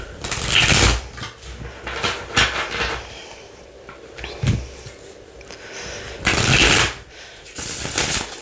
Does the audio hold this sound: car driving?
no